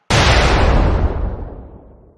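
A single loud gunshot sound effect cracks out sharply and then rolls off in a long, fading echo tail lasting about two seconds, with no voices over it.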